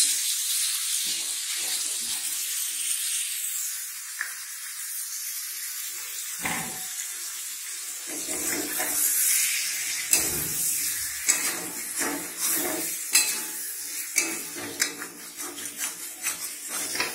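Marinated chicken sizzles in a hot pan for Bengali chicken rezala, a steady frying hiss broken by scattered clinks and scrapes of stirring that grow busier toward the end.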